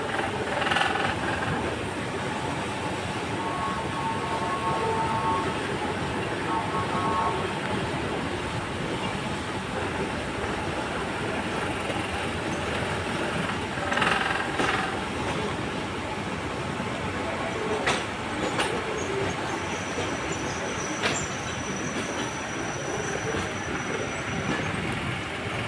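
A Raml tram in Alexandria rolls along its rails, a loud steady rumble of wheels and carriage with occasional metallic squeals and clatter, continuous throughout.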